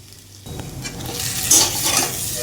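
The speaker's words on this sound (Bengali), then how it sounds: "এবার ভাজা করে তারপর জল দিয়ে দেবো।" Dried lotte fish with potato and pumpkin fries in a pan, starting quietly and then breaking into a loud close sizzle with stirring scrapes and a sharp hiss spike.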